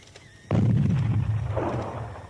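A sudden loud blast as plastic explosive detonates beside three petrol-filled canisters in a military test, followed by a roaring rush of flame that fades over about two seconds.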